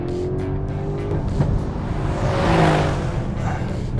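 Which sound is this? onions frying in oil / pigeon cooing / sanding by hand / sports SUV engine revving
sports SUV engine revving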